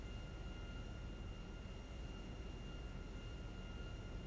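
A steady airplane engine drone from GTA 5, a continuous broadband roar with faint tonal whine, constant in level and heard alone without talk.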